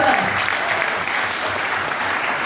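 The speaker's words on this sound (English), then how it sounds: "So give yourselves a big round of applause." An audience applauding, dense steady clapping filling the whole stretch, with a voice faintly underneath.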